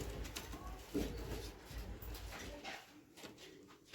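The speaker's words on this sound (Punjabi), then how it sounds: "ਦੇਖੋ ਬਾਈ ਕਬੂਤਰ ਦੇਖੋ" A pigeon coos close by in a loft of fancy pigeons, a low soft burbling call over faint background noise.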